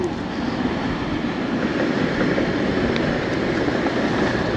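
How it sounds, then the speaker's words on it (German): A Prague tram rolls past a stop, a steady broad rumbling roar with a faint rail hiss that holds at one level from start to finish, close and fairly loud, with no voices. "Jetzt wollen wir in die Stadt fahren mit der Straßenbahn. Und die fährt jetzt hier auch gerade."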